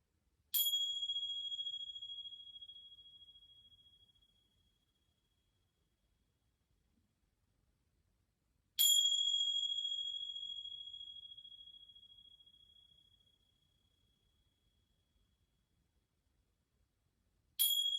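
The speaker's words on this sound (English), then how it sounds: "You can listen to the chimes" Chimes ring to open a yoga practice: three clear metallic strikes spaced about eight seconds apart, each bright tone lingering and slowly fading into near silence in a calm, quiet room.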